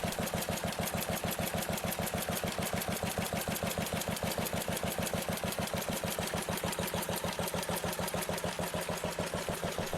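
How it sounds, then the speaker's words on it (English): A Kelly & Lewis MVA antique stationary engine runs at low speed, a steady, even train of rapid firing beats that carries on unbroken from start to finish with no voices. "The MVA's low-speed operation, typically running around 600 to 800 revolutions per minute, provided smooth, dependable torque for driving machinery"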